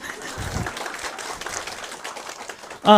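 Audience applause at a lecture, a scattered patter of many hands clapping at moderate loudness that keeps going for several seconds before a voice cuts in at the end.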